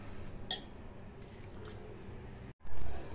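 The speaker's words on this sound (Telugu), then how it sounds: "ఈ పిండిని ఇలా గట్టిగా కలుపుకోవాలండి." Thick set dosa batter made from boorelu pindi and water is mixed by hand, giving soft, quiet wet squishes and a few small splashy sounds, with no talk.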